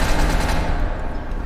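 Paintball grenade going off in a video game, a loud sustained crackling burst of rapid pops lasting over a second with no talk.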